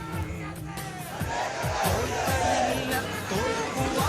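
A large crowd gathered along the route of VS Achuthanandan's funeral procession in Alappuzha, a dense babble of many voices with raised calls and shouts, loud and continuous.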